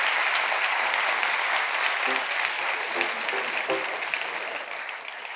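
A studio audience at a Turkish talk show breaks into dense, sustained applause, a broad wash of many hands clapping that stays loud throughout and tapers slightly at the end.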